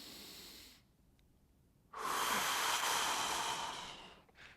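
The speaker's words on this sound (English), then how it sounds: "Take a deep breath." A deep breath during a hip stretch: a long breathy exhale, a short quiet pause, then a strong, close inhale lasting about two seconds, followed by a faint trailing breath.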